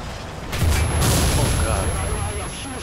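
A heavy tank gun booms in War Thunder during a Type 95 Ro-Go Japanese tank battle. One loud, close blast lands about half a second in and rolls on with a rumbling tail over steady game noise.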